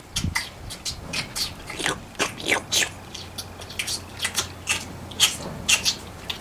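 Cows eating hay, producing a string of close, wet slurping and munching sounds in an irregular rhythm, with no speech.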